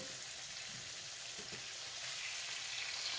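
Red snapper frying in a pan, its skin side cooked for twelve minutes, gives a steady soft sizzle and crackle with faint movement, no talking.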